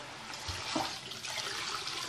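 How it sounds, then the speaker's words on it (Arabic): Water is poured into simmering tomato sauce with meat in a pot, a steady, close splashing and sizzling rush that lasts about two seconds with no talk. "هبدا انزل لها شويه ميه اهو"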